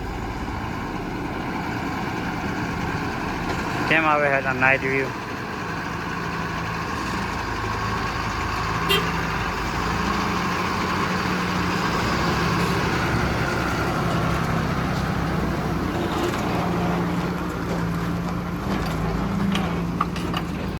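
A truck's engine drones steadily and close at an even pitch for the whole stretch, with a short burst of speech early on and faint clatter now and then.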